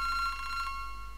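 A phone in a visual novel video game rings with a steady, high electronic trill, quiet and alone, then cuts off.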